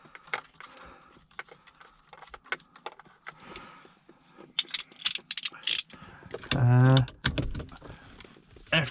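A ratchet socket wrench on an extension tightens a nut while cruise control is being installed in a Subaru Legacy. Quick clicking ratchet strokes come in bursts alongside clanks of handling, close and moderately loud, with a short mechanical whirr near the end.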